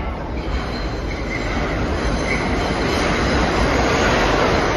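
An R142 4 train on the IRT Lexington Avenue Line rolls into Grand Central–42nd St subway station, a loud continuous rumble of wheels on rails with faint squealing, close and steady throughout.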